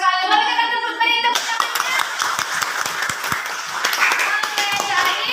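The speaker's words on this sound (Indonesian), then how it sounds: "Mari kita tepuk tangan." A classroom of students claps hands together in a dense, steady burst of applause that begins after a brief spoken moment and carries on strongly to the end.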